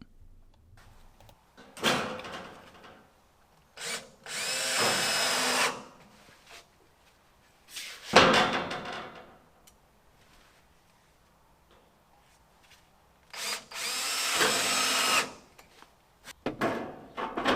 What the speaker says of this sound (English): I used my self-tapping screws again to secure the siding to the studs and the sill plate.